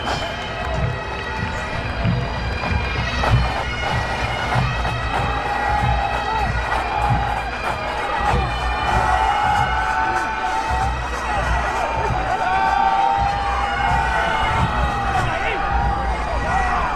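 Crowd cheering and applauding the massed pipe bands in the arena at the Braemar Gathering, a steady roar of voices and clapping that fills the whole stretch with drums and pipes faintly mixed in.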